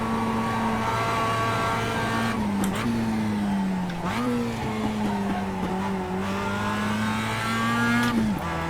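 A Mazda MX-5 race car engine drones steadily in iRacing at Summit Point Raceway, loud and close with a constant buzzing tone that dips briefly at shifts and corners.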